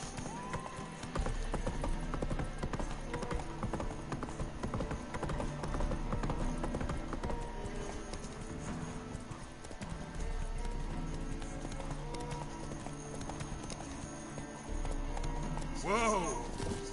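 Roach the horse gallops in The Witcher 3, rhythmic hoof clip-clop running continuously under a dense game soundscape of music and effects, with a brief whinny near the end.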